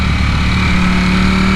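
A stock Ducati Streetfighter V4 motorcycle under way holds a loud, steady, high-revving engine drone close by for the whole stretch, with no talking.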